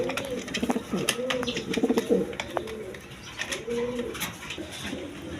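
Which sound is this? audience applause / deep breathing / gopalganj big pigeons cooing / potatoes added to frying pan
gopalganj big pigeons cooing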